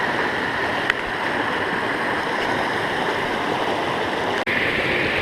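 A creek's rapids and small waterfalls near Zion and Bryce rush in a steady, loud, continuous wash of water, close by and with no talk.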